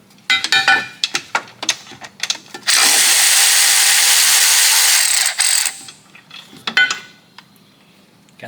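Metal clinks and tool handling, then a loud power tool whirs continuously for about three seconds loosening a bolt while changing a Jeep Grand Cherokee starter, then stops, followed by more clattering.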